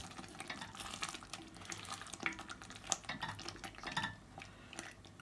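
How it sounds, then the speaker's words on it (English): Pepper boils in a pot on the stove, giving steady bubbling and sizzling along with clinks of utensils and cookware, close and fairly quiet, with no talking. "Our pepper has been boiling for 10 minutes."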